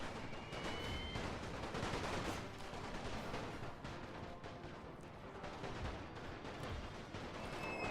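Napoleon Total War battle with artillery and musket volleys: dense, continuous crackling gunfire and distant booms rolling on without pause, moderately quiet, with no voices.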